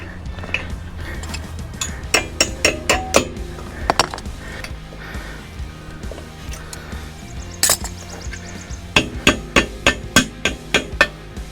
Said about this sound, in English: And just put this cotter pin back in.